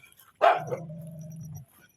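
A dog being fed snack sticks lets out one sharp bark that trails into a drawn-out whining yelp lasting about a second, close and clear against a quiet room.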